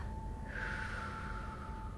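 A slow yoga breathing exhale, drawn out over a five-heartbeat count, makes a soft, steady airy hiss that starts partway in and holds for about a second and a half, close and alone without talk.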